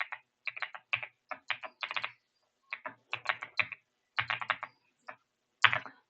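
Quick bursts of computer keyboard typing while a JavaScript function is written, close and clear, with irregular clusters of key clicks separated by short pauses and no talking.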